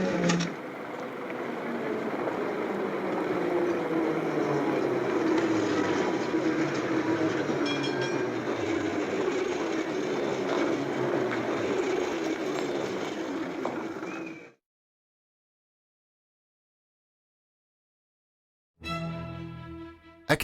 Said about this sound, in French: Le tramway sans âge, ou plutôt hors d'âge, qui desservira la ville et son château